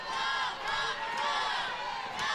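A crowd at an NCAA softball championship game between Ole Miss and Arizona cheers loudly and steadily, a dense roar of many voices with whoops and shouts rising and falling throughout.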